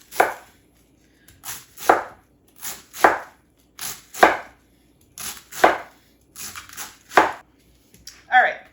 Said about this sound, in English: So we are going to just kind of cut this in small pieces.